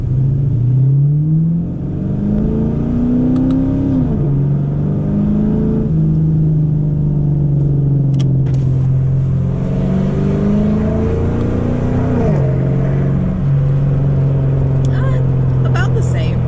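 A car accelerating in first gear, the engine note climbing steadily in repeated rising sweeps, a loud, close and continuous drone from inside the vehicle, with no talking.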